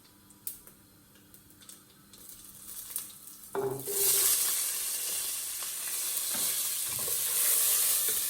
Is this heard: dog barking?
no